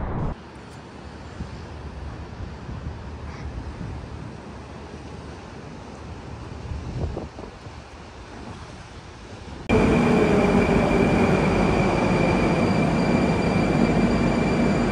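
A Moscow metro train runs with a steady, low rumbling roar that suddenly grows much louder and brighter near the end.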